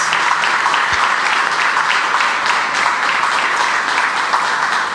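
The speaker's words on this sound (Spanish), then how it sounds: "Les pido un aplauso para los niños y niñas de Honduras" Audience at a Honduran education campaign launch applauds for the nation's children, a loud, steady, full-bodied clapping that carries evenly through the whole stretch without talk.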